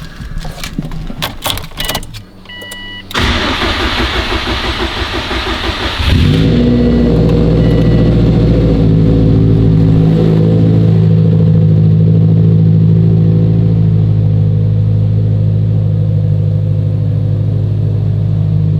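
Subaru WRX STI engine after a repair: keys jangle and the ignition cranks, then the engine catches and settles into a loud, steady, close idle that runs on alone.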